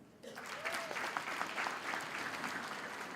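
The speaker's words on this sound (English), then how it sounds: "Can you applaud them?" An audience at a university graduation ceremony breaks into sustained applause, a dense steady wash of clapping that starts abruptly and continues throughout.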